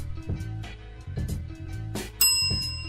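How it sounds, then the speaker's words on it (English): Short bell rings, used as a sound effect on a talk show, with several bright rings over a rhythmic musical backing and a sharp, sustained ding near the end. "Ring the bell."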